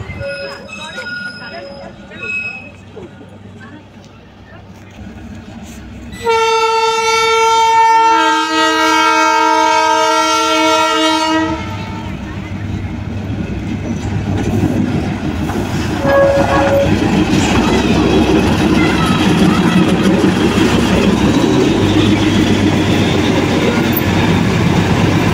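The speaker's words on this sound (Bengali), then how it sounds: "ভিডিওটা শেষ করার আগে চলো তোমাদের একটু টয় ট্রেনের সঙ্গেও দেখা করাই, যেটা আমরা গিদ্দা পাহাড় থেকেই কিন্তু দেখতে পেয়েছি।" Toy train passing on the hill line below Giddapahar near Kurseong, a long sustained horn blast followed by steady rumbling and clattering of the cars rolling by, fairly near and loud throughout.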